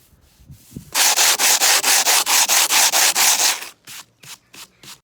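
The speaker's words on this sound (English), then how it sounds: "take a sanding block and some 40 grit sandpaper to sand the underside of the worktop" A sanding block with coarse 40 grit sandpaper scrubs the underside of a cast concrete worktop, loud rhythmic back-and-forth rasping strokes in a fast even run, then a few slower separate strokes.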